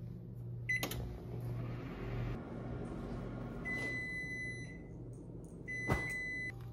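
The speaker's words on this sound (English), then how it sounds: "Let's get to microwaving." A microwave oven heating a red velvet protein Pop-Tart hums steadily with a low drone and fan noise, with a door clunk and a few short electronic beeps.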